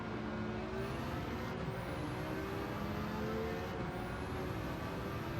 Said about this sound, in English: just rev it to the midpoint of each gear.